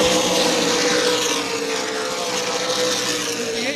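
Race cars roar around New Smyrna Speedway during a 100-lap memorial stock car event, a loud, steady, broad engine drone that swells slightly as the pack passes, with no talking.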